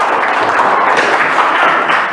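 Audience applause in a classroom setting, dense continuous clapping from many hands, loud and close, filling the whole moment without talk.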